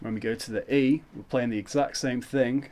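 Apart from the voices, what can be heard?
No everyday noise stands out behind the speech.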